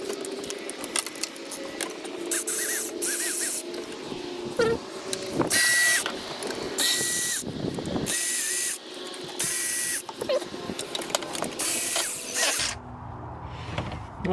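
An electric ratchet tool spins out the 10mm backing plate bolts on a 2004 Toyota Sienna engine during head gasket work, loud close buzzing bursts with short gaps and clinks of metal in between.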